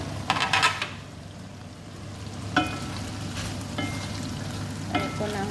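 Red pepper added to a frying pan with shrimp and vegetables sizzles steadily, with a few louder clatters and stirring scrapes of the pan at intervals.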